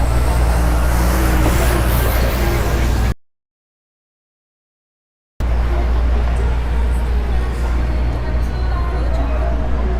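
Traffic on a Midtown Manhattan street roars as a dense, steady wash of engines and road noise, broken by a few seconds of dead silence, with voices faintly mixed in.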